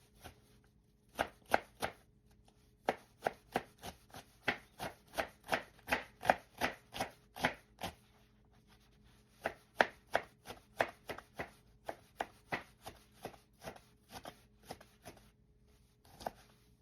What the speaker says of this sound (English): Alright, so I'll just dice that up a little bit more.